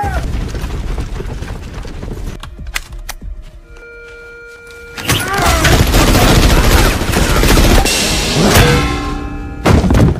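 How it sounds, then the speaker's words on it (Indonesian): Film action scene with CIA agents firing blindly at a hidden man: rapid bursts of loud gunfire, heavy thumps and mechanical clatter, the shooting dense and chaotic through the second half, with a quieter stretch of tones in between. "CIA menyadari keberadaannya dan menimbakinya secara membabi buta"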